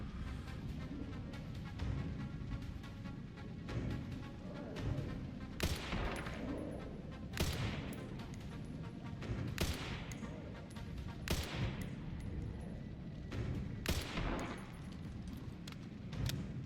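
A sniper rifle without a scope fires in Resident Evil 9 Requiem, loosing about five sharp, heavy single shots a second or two apart over a low background of game noise.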